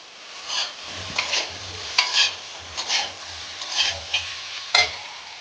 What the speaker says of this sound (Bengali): আমটা কড়াই দিয়ে দিচ্ছি